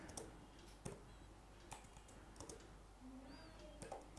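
Quiet clicking of computer keyboard keys while someone types C# code, a few irregular soft taps spread across the moment with no talking.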